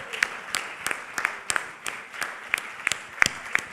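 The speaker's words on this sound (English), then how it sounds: "a bigger round of applause" An audience applauds the Best Client Servicing Team of the Year winners, Q&Q Research Insights, at an awards ceremony. Moderate, rhythmic clapping from a crowd rings out without any talk over it.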